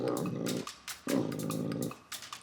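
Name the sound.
Great Dane dog growling and barking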